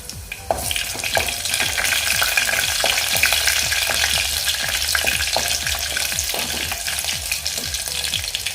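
Garlic dropped into hot oil with bloomed cumin sizzles loudly and continuously at close range, with repeated scraping and stirring strokes in the pan throughout.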